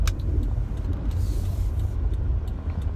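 Steady low road rumble and engine hum fill the cabin of a car being driven, close and even, with faint ticks and rattles over the drone.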